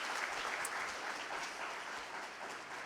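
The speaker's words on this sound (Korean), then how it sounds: "우리 다시 한번 뜨거운 박수로 한번 축복하겠습니다" A church congregation claps warmly for a children's choir, a fairly faint, even spread of many hands that fades slightly toward the end with no speech.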